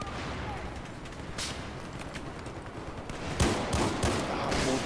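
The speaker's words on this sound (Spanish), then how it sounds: "Martito, me están disparando." Gunfire from a Battlefield 4 multiplayer match crackles as a series of sharp bursts and cracks over a rumbling battle bed, growing denser and louder toward the end.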